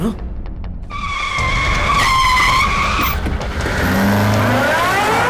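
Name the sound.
car braking to a stop, tires skidding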